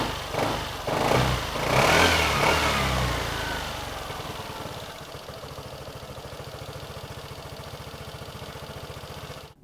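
An Aprilia SR GT 200 scooter engine is blipped and revved a few times up close, then settles into a steady, putt-putting idle with a regular pulse.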